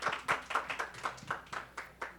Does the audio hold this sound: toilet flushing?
no